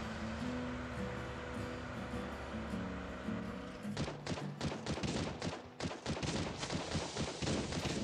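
Turret gunfire in the Last Day on Earth survival game: a rapid run of loud, sharp shots bursts in about halfway through, firing in quick irregular volleys after a quieter stretch of low ambient hum.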